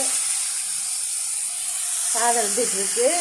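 A pot of rice boiling on the stove gives off a steady, loud hiss of steam throughout, and a voice cuts in over the hiss for the last second or so.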